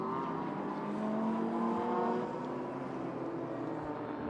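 A Toyota Supra GT4 race car runs off the Okayama circuit onto the grass during a Japan Cup race, its engine droning steadily and swelling briefly before easing back.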